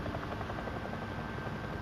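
A helicopter in Call of Duty: Modern Warfare drones steadily with a low, continuous rotor thump and engine hum, sustained and fairly loud throughout, with no voices.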